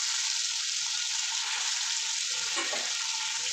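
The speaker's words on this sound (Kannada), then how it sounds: "ಈರುಳ್ಳಿನ ಹಾಕೊಂಡು ಚೆನ್ನಾಗಿ ಫ್ರೈ ಮಾಡ್ತಾರೆ. Next tomato ಹಾಕ್ತಾಯಿದ್ದಾರೆ." Tomatoes go into onions frying for hotel-style biryani, giving a loud, steady hiss of sizzling oil with faint stirring underneath throughout.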